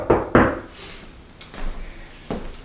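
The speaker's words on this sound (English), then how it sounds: "I'm going to knock." Knocks land on a hospital room door in an ICU: two sharp raps close together, then a few softer taps and a final knock, with quiet between them.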